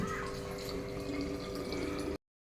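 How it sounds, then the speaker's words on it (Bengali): Water splashing steadily into a pot for cooking Maggi noodles, a close, continuous pouring rush lasting about two seconds before stopping abruptly. "এবার একটু জল দিয়ে দিন"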